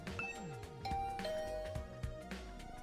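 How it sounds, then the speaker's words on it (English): Doorbell chime in the video game The Hundred Line: Last Defense Academy, tonal ringing notes over soft game music, moderate level. "I rang the doorbell to Tsubasa's room."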